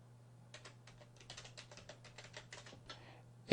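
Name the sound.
typing an email address on a computer keyboard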